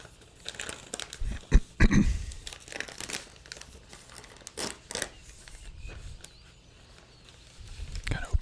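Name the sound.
plastic comic book bag being opened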